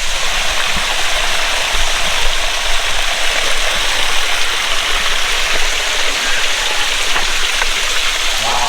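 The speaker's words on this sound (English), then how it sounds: "Let's go up closer to this waterfall and see how cold this water is." Waterfall on a hiking trail, a loud, steady rush of falling water filling the whole stretch with an unbroken hiss and roar, heard close up and alone.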